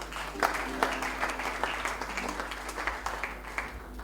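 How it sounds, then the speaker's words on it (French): Crowd applause with cheering at a lively gathering, steady clapping throughout with scattered louder claps and a few voices rising over the noise. "Est-ce qu'on peut acclamer pour le Saint-Esprit?"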